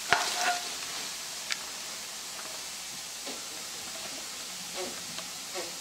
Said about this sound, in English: now we're going to go ahead and put in this nice green and red kale